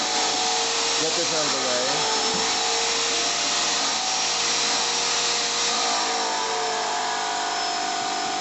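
A Graco airless paint sprayer running during a mobile home makeover, a loud continuous motorized whir held steady throughout, with a voice speaking briefly over it near the start.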